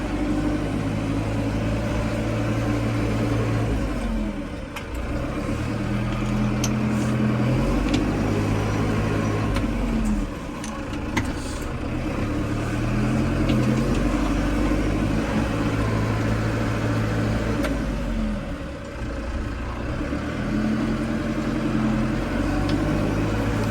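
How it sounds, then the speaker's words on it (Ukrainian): A Valtra N92 tractor driving in working mode, its engine a continuous, loud, near drone with shifting low tones as it moves through the gear ranges, with no speech. "Давайте включимо робочий режим і поїдемо в робочому режимі."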